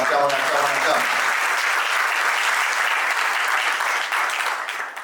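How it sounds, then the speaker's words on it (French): A room full of people at a civil wedding ceremony claps steadily, loud and sustained, with a voice briefly heard at the start before the applause fades slightly at the end. "On acclame."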